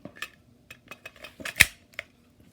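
Sig Sauer SP2022 pistol magazine released and sprung out, a quiet cluster of small metallic clicks and rattles ending in one sharper snap, close and faint.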